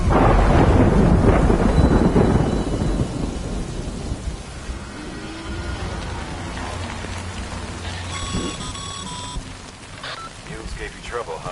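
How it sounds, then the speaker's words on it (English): Storm in the video game Death Stranding: heavy rain pours and thunder rumbles loudly at the start, then fades to a steady patter, with a few faint electronic beeps toward the end. "Good thing it was raining."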